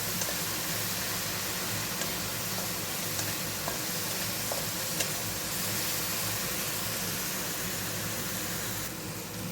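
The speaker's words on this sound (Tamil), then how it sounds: "இதை நம்ம எண்ணெயிலேயே நல்லா அப்படியே வதக்கிக்கலாம் பச்சை வாசனை போகிற வரைக்கும்" Green chillies sauté in hot oil in a pan as curry prep begins, giving a continuous, even sizzle with occasional faint pops and ticks throughout.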